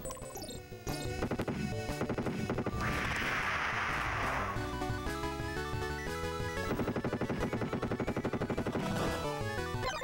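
Video game gunfire from Blood Gear on the TurboGrafx, rapid machine-gun bursts and crashing impacts layered over chiptune music, loud and continuous throughout.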